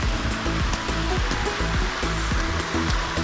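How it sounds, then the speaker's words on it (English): A little creek waterfall pours steadily on a flat plateau trail, giving a continuous, fairly loud rush of falling water that runs unbroken with no talk. "A little waterfall right there."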